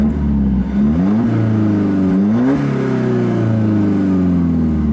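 An Alfa Romeo 4C with a Capristo exhaust, in dynamic mode, revs from inside the cabin: a loud, steady engine drone that climbs and falls through several rev sweeps without pause.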